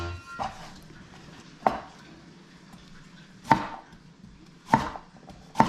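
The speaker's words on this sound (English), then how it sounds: "we're gonna start by cutting up the cucumber and the carrot" A knife cuts cucumber and carrot on a cutting board. Five separate, fairly loud thunks land at uneven intervals over a quiet room hum, with no talking.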